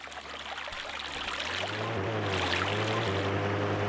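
Motor of a ghost ship in the video game Skyward Sword, a low steady drone that swells in after a moment beneath a rushing, water-like wash, fairly quiet and continuous.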